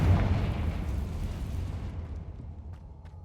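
A Confringo spell in Hogwarts Legacy bursts with a loud booming blast that rolls into a long fading rumble, alone with no voices.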